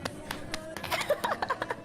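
Sharp slaps from a Slap Kabaddi game land one after another in a quick, uneven rhythm, close and crisp, with faint tonal sounds underneath.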